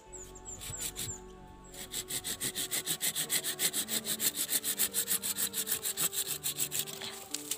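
A hand saw cuts through a rukem bonsai branch, fast rhythmic back-and-forth strokes rasping through wood close to the microphone, about thirty strokes after a brief start, no talking.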